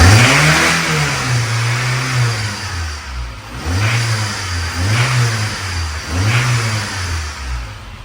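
A car engine blowing oil out of the tailpipe revs in rough, uneven surges over a low idling rumble, repeating several times with no talking.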